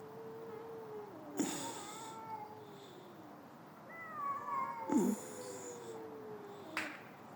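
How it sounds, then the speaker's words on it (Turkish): An aggressive cat gives drawn-out, wavering growling meows and caterwauls with a couple of sharp hissing spits between them, close by and fairly loud against a quiet room. "Çok saldırgan bir kedi."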